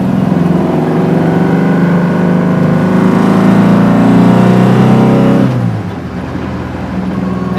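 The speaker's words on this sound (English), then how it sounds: "the Weber sounds terrific. I think Weber make more noisy than exhaust system." A VW Beetle engine fitted with a Weber carburetor and merged competition exhaust revs hard and loud as heard from inside the car, sustaining a high drone before the revs drop sharply near the end.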